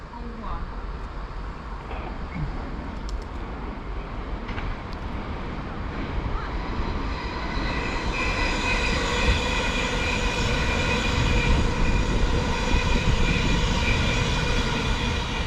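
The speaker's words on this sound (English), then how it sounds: "I think we've got a train actually passing through platform 1. It is a 700." A Class 700 electric train passes through a station on the East Coast Main Line, its whirring motor and rolling rumble building steadily louder over about fifteen seconds.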